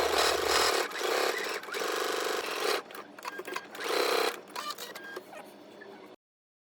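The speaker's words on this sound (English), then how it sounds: "Now we're going to go ahead and take this to the sewing machine, and we're going to stitch 3/8 inch away from the raw edge" A sewing machine runs in bursts as it stitches a seam in jacket fabric, close and fairly loud, with short pauses and stops between runs of stitching.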